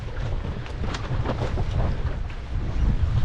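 Strong wind roars across the microphone aboard a sailboat under sail in windy conditions, a loud continuous rumbling buffet with gusting swells and water rushing underneath.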